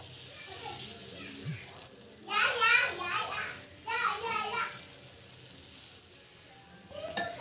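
Ragi dosa batter poured into a hot, lightly oiled pan sizzles in two bright bursts, the first louder and longer, over a quiet kitchen with someone talking and children's voices in the background.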